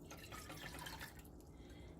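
Water pours softly and continuously into a cup, a faint gurgling trickle with no voices.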